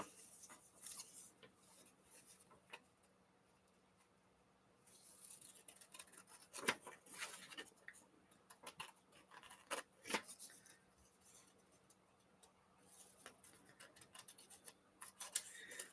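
Quiet snipping of scissors cutting, scattered crisp clicks and short cutting strokes at close range in a hushed room, with no talking.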